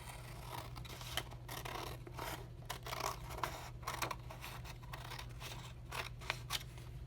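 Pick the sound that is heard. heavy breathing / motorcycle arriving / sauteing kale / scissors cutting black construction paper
scissors cutting black construction paper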